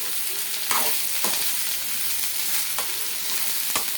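Tender, lightly peeled green vegetable frying in a pan, a steady broad sizzle with a few soft scraping stirs breaking through it, close and continuous.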